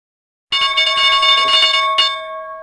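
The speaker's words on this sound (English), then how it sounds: "Opening bell." A stock market opening bell rings on a live trading morning show: a loud, steady electric ring starts abruptly after a short silence, holds for about two seconds with a brief re-strike, then decays slightly.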